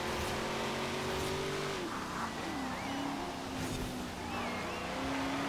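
A Chevy's engine drones and climbs in pitch as it accelerates in Forza Horizon 4, a loud continuous motor tone with gliding shifts and a steady rush of road noise beneath it.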